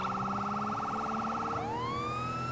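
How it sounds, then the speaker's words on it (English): A police car siren from GTA 5 with the LSPDFR mod wails loudly and steadily at close range. A rapid yelp pattern switches to a slower rising wail midway. "Gotta play with the sirens a little bit."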